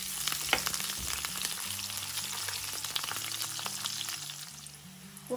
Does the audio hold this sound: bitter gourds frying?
yes